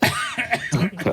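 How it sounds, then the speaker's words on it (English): A person gives a short cough close to the microphone, a brief rough burst broken into a few quick pulses. "I'm sorry because I leaned back to cough"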